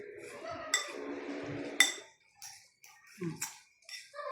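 A spoon scrapes and clinks softly in a pan while a creamy dish with cheese and all-purpose cream is stirred, followed by a few sparse, quiet taps and clinks.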